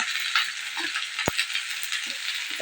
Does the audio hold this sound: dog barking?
no